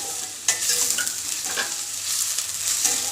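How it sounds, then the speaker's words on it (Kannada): Sliced onions frying in oil for pulao: a dense, continuous sizzle with a sudden burst as stirring begins, then scraping strokes and crackle, close and fairly loud. "ಈರುಳ್ಳಿನ ಹಾಕ್ಕೊಂಡ್ಬಿಟ್ಟು ಇದನ್ನು ಫ್ರೈ ಮಾಡ್ಕೊಳ್ತೀನಿ"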